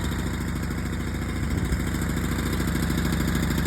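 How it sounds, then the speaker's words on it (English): A small carbureted engine mounted on an AWD hybrid bicycle runs steadily while warming up, a loud, close, continuous putter with a rapid even firing rhythm and light mechanical clatter, holding constant throughout with no voices. "I actually should tune down the carburetor a little bit, but I just wanted to warm the engine up slightly."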